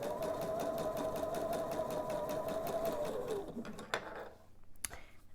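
A sewing machine stitches pieced fabric half hexagons, running steadily and loud for about three seconds before it stops, followed by a few small clicks and handling sounds.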